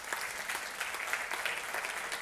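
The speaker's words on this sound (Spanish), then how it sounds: "Dele un aplauso al Señor por eso" A church congregation applauds during a sermon, a broad wash of many hands clapping steadily at moderate, somewhat distant loudness, with no talking over it.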